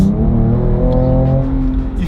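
A Ford Ranger Raptor's 402-horsepower twin-turbo V6 pulls hard under acceleration, a loud, close, rising engine drone with steady harmonic tone heard from inside the cabin.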